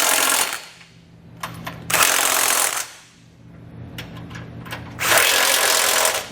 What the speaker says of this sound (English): I'm going to come back with a 3/4 inch socket, and I'm going to tighten up all the nuts holding my hitch in place.